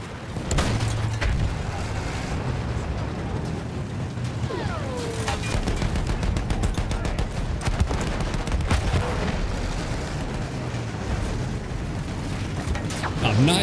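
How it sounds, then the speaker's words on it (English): Battlefield 1 battle in World War I trenches: continuous gunfire and heavy booms from tanks and artillery roar throughout, dense and loud, with rapid bursts clustered mid-way and faint voices in the background. "Take down that machine gun."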